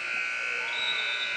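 An end-of-quarter buzzer sounds at a high school basketball game as a steady, sustained electronic tone that holds for over a second above a noisy gym crowd.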